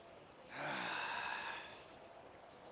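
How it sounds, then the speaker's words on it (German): A character in GTA 5 lets out a single long, breathy exhale during a yoga session, rising sharply, holding for about a second, then fading out. "Exhale."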